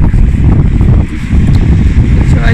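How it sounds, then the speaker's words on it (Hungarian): Strong wind buffets the microphone outdoors during Swedish snowfall, a loud continuous rushing roar with brief dips. "Egy kicsit elkezdett fújni a szél, de még mindig esik a hó."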